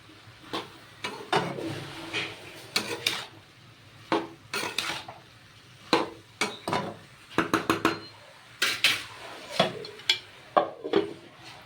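A utensil scrapes and clacks against a pan while ash gourd is stirred with turmeric and salt, giving irregular sharp metallic knocks and scrapes at close range, with no talking.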